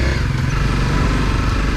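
A motorcycle engine runs steadily and loudly up close with a continuous buzzing drone, no voices over it.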